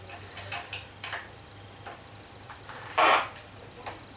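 An Allen key ratchets a fork bolt tight on a Triumph Bonneville T140, a few faint metallic clicks and ticks near at hand, with one louder clack.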